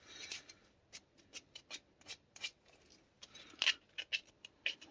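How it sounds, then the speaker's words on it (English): Sandpaper rubbing the rough edges of a homemade Venom cosplay mask with a moving jaw, a series of short, faint scratchy strokes in an irregular rhythm with brief pauses between them. "just to help sand and round off these rough edges"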